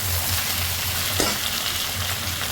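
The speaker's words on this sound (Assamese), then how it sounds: "এতিয়া অলপ লৰাই দিলোঁ," Goat meat with potatoes stirred in a hot pan with spices, a steady loud sizzle and hiss throughout, with one brief scrape of the spoon midway and no talking.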